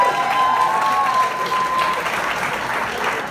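An audience at a live country singing performance claps and cheers loudly and continuously, a thick roar of applause with a high whistle riding over it early on.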